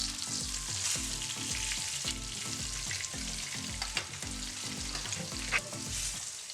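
Blackened salmon sizzles steadily in a hot pan, a bright constant crackle overlaid by rhythmic low scraping and stirring strokes and a few sharp clinks, with no voices present.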